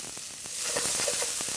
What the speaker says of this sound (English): You can hear that nice little sizzle.